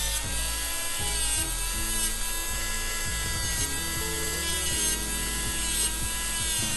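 A high-speed electric nail file whines steadily while shaping a square acrylic nail, its pitch dipping and surging in short repeated passes as it bites into the material, close and loud with no talk.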